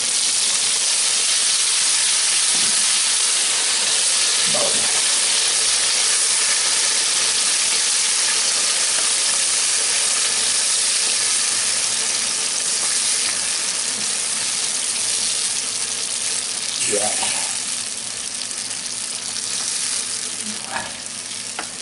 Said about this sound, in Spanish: Esto ahora que se sofría bien.